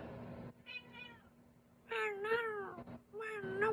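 A pet cat meows several times, a faint short call early on and then two louder, drawn-out meows close by, over quiet room background with no talk.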